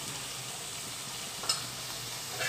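A masala mixture for bhendi fry cooks in a pan under a lid, giving a low, steady sizzle broken by one soft tick.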